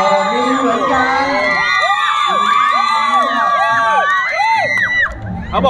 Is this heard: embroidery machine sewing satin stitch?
no